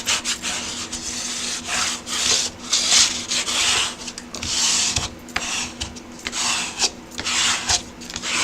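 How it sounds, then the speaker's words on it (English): Paper album template being burnished by firm rubbing, a steady scraping rasp in repeated back-and-forth strokes close up, with no talking. "Then turn it over and burnish it very well."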